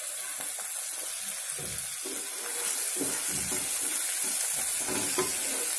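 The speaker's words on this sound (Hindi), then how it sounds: "इसमें मैं टमाटर ऐड कर रही हूँ, लहसुन और प्याज मिर्चा भी।" Onion, tomato, garlic and chili fry in a pan for a chana dal dish, a steady close sizzle with intermittent scraping and stirring clatter throughout.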